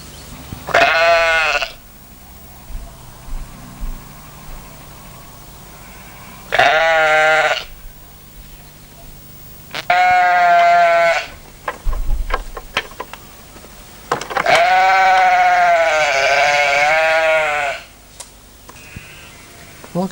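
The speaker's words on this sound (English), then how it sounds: "Great to see these lovely little lambs." Lambs bleating in an open field in Exmoor, several loud, wavering calls close by, spaced out with quiet pauses and small ticks between them.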